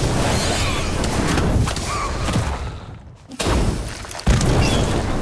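Incendio fire spell cast in the mobile game Harry Potter Magic Awakened, a loud dense rumbling whoosh of flames with booming bursts, briefly dropping out before surging again.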